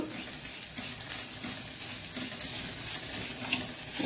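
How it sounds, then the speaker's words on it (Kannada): Mustard seeds crackle and pop in hot oil while tempering for a Mangalore temple-style sambar, a continuous soft sizzle with scattered sharp pops, fairly faint and without talk. "ಸಾಸಿವೆ ಪಟಪಟ ಹೇಳ್ತಾ ಉಂಟು"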